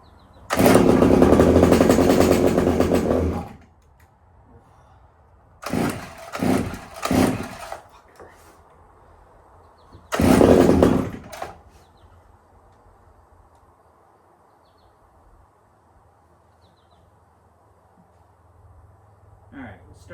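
A Pioneer P28 chainsaw being pull-started, its engine catching in short loud bursts that sputter and die, three or four separate attempts with quiet gaps between, close by.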